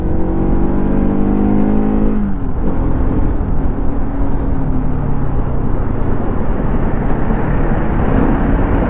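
A 2024 Bajaj Pulsar RS200 motorcycle pulls hard in third gear, its engine note rising with a strong rushing roar and wind noise that stays loud and close throughout, with no talking over it.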